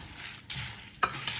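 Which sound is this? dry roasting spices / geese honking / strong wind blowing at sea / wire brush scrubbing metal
dry roasting spices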